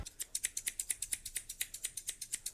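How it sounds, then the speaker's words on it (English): Scissors snip through fabric in a quick, even series of crisp cuts, close and fairly quiet, with no voices. "And now we can actually properly cut it."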